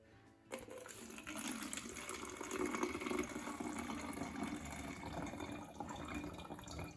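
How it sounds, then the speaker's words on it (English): Vinegar pours into a bottle at home, a steady rushing liquid fill starting abruptly and continuing at moderate level, faint and without talk. "pour in some vinegar, about up to here in the bottle"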